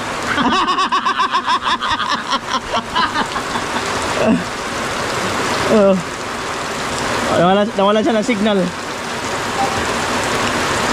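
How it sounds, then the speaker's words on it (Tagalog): Steady rain pours down hard, a dense hiss throughout, while people talk and laugh over it. "Lakas ng ulan."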